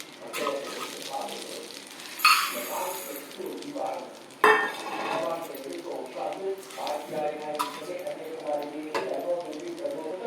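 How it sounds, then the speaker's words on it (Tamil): Whole black urad dal poured into a pan for dry roasting while making idli milagai podi, with soft rattling and stirring scrapes, a couple of sharper clatters, and a person talking over it. "முழு உளுந்து 2 போடுறோம்"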